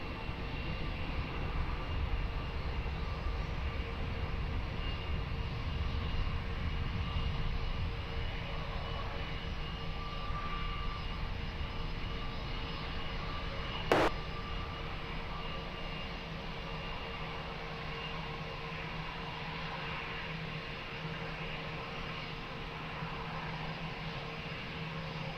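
At Lisbon Airport, an airliner takes off from runway 20. A steady, loud jet engine roar holds for the whole stretch, with one sharp click partway through and no speech.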